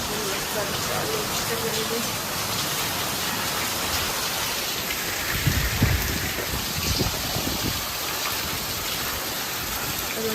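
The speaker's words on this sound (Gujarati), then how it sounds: "સવારનો કન્ટિન્યુઅસલી વરસાદ આવે છે બંધ નથી થયો" Heavy rain falls without a break in Balagam, Ghed, a broad constant hiss with occasional heavier drips and thuds close by.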